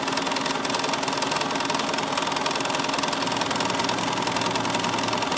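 A sewing machine quilting the borders of a table topper, stitching through batting tacked to stabilizer, running in a steady, continuous mechanical whir with a rapid needle rhythm throughout; no talking.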